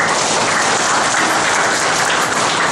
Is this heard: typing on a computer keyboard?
no